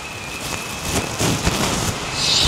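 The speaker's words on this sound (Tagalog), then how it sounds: "Ang lakas ng ulan." Heavy rain on an old mountain trail in Taiwan, a dense loud wash of drops with gusty surges and rustle close to the listener, no talking.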